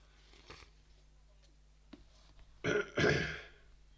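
Throat clearing and coughing from a man with a husky, breaking voice during a live wrestling watch-along: faint scattered noises, then two loud, rough bursts close together near the end.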